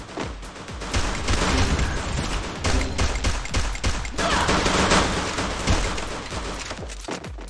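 Rapid gunfire from the video game Free Fire, a dense string of sharp shots over about seven seconds with steady loud cracks and no clear talking.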